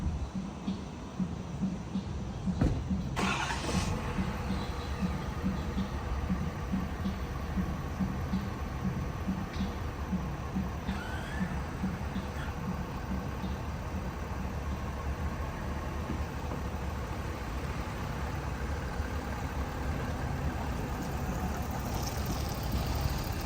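A Ford F-250 pickup tows a trailer on the road, heard as a steady low engine and road drone with broadband rumble, constant and fairly loud throughout, one brief thump near the start, no speech.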